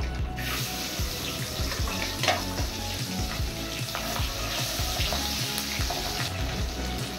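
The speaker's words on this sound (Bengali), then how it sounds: "আর দুটো মাছ তেলে দিয়ে ততক্ষণ আমি মাছের মশলাটা রেডি করে নেব" Two pieces of fish fry in hot oil with a dense, continuous crackling sizzle that stays at an even loudness, close by and without speech.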